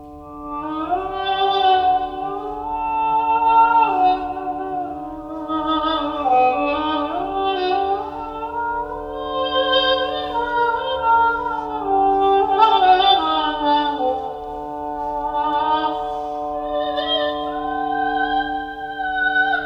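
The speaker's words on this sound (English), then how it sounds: "It's the sound of the wood resonating." A La Voix Du Luthier wooden resonator soundboard speaker at Superbooth 2021 plays rich, sustained synthesizer music with a shifting melody over a steady drone, continuous and fairly loud with no talk.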